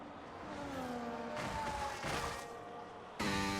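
A racing car engine in a racing video game revs and whines through shifting pitches, loud and close, with a sudden surge near the end.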